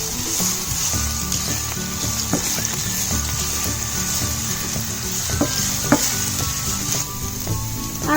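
Ginger garlic paste sautés in a pan for Indian-style veg pasta, a continuous oily sizzle with frequent scraping strokes and clinks of a spoon against the pan, close and steady with no talking.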